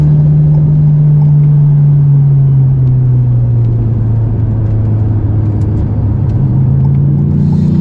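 An Alpine A110 S sports car accelerates on a track, its engine a loud, steady, close droning roar as the pitch slowly shifts through the run.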